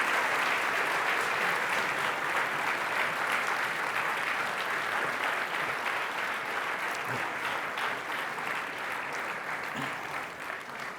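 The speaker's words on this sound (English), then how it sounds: "Standing ovation." A lecture-hall audience rises in a standing ovation for a visiting writer and his wife, producing dense, sustained applause that stays loud for the whole stretch and eases slightly near the end.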